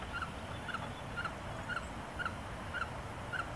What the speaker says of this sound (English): there are wood ducks right here.